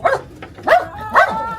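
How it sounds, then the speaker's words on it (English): A dog barks three times in a row, sharp and fairly close, with short gaps between each bark and nothing else around it. "that's Bernard barking, if people can hear"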